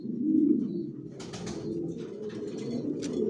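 Racing pigeons, original Johnson racers, coo in a loft with steady low murmuring throughout, close and moderately loud, with a few faint higher chirps and rustles mixed in.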